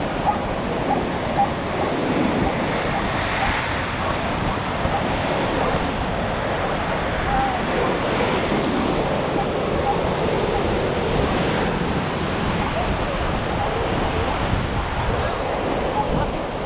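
Sea waves breaking on the shore at Scarborough, a continuous loud wash of surf with wind buffeting the microphone, no talk over it.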